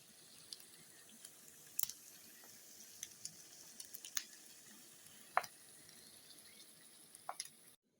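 Sausages fry quietly in a pot, with a faint continuous sizzle broken by scattered soft pops and crackles.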